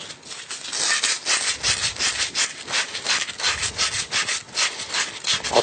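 Brisk back-and-forth scrubbing of a brass pipe being cleaned before tin soldering, a close, loud, steady rasping rhythm of rapid strokes with no talk.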